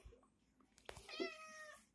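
A cat meows once in a home kitchen, a single drawn-out, fairly close meow that follows a brief clatter, with quiet room sound around it.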